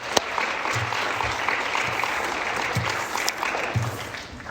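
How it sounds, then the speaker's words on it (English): Dense, continuous clapping from a sizable symposium audience, steady and loud throughout with a few sharper individual claps standing out. "So I wanted to stop and just clap for that"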